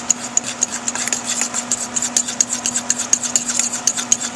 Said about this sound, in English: whisk all of these ingredients together. A fork should work just fine for this